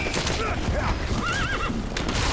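A horse whinnies in a video game, Metal Gear Solid 5: The Phantom Pain, with a wavering, rising-and-falling call over a dense, noisy background of rumbling and clatter.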